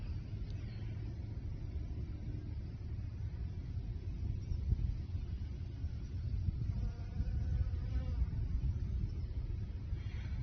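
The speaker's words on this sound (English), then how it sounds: "Another bee just doing its thing." Bee buzzing among dandelions, a faint continuous hum near the ground under steady outdoor rumble from distant traffic.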